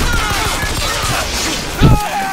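Rapid pistol gunfire in a Chinese-language zombie shooter: a run of sharp cracks, close and fairly loud, ending in a heavier burst near the end, with game noise and a voice faintly underneath.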